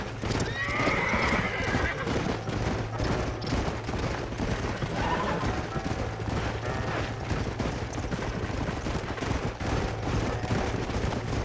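Horses in the Red Dead Redemption video game gallop with a steady, close clip-clop of hooves and occasional neighs, under a continuous mix of game ambience.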